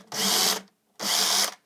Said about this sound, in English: So let's drill here.